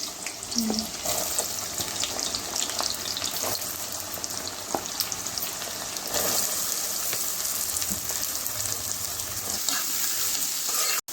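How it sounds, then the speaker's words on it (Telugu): Onions sizzle steadily in hot oil in a pan, a constant bright crackle that lasts throughout, with a few soft stirring scrapes. "ఇక ఇప్పుడు ఆయిల్ వేడైంది, ఇప్పుడు ఉల్లిగడ్డలు వేసేసుకోవాలి"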